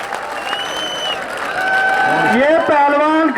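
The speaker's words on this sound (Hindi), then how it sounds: "बस जोरदार ताली बजाओ नरेंद्र पहलवान के लिए आगे एक बार" Crowd applause at a village dangal wrestling match in Bissar, rising and swelling steadily over a few seconds, with a voice calling out over it.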